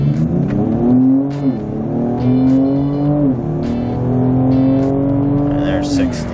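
A 2025 Ford Explorer ST launches hard from a brake boost in sport mode, its engine droning loud and close as it climbs through the gears with brief pitch drops at each shift, a voice speaking over it.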